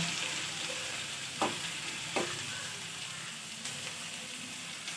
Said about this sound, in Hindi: ये देखिए पियाज टिके कलर टिके रंग हो गले आम मसला टी पकेबा।